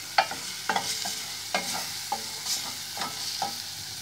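Shrimp and blended garlic sauté over a small flame, with a soft sizzle under repeated spoon-against-pan stirring clatters in an uneven rhythm.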